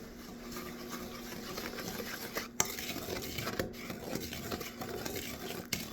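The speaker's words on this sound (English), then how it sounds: "Give that a nice little mix." Eggs and vanilla stirred into cookie dough in a bowl, a steady scraping and mixing with light clinks of utensil against the bowl and a couple of sharper knocks, close and moderately quiet with no talking.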